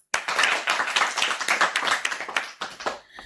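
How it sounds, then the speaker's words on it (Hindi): A group of children claps together in a quick, uneven burst of close hand claps that lasts a few seconds before dying away. "तो बच्चों बजा देते हैं भूवी के लिए तालियां।"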